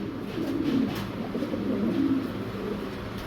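Foreign-breed fancy pigeons kept for sale coo close by, with low, throaty, rolling calls repeated in overlapping bursts and no talking.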